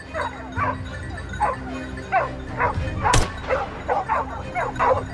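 Hunting dogs bark and yip in a repeated, uneven rhythm close by as they hold a cornered wild boar in a deep forest, with one sharp loud crack midway through.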